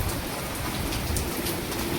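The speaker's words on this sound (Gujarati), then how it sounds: "એક અનરાધાર વરસાદ વરસી રહ્યો છે." Heavy rain pours down in a steady, dense hiss close by, continuous and loud throughout with no voices.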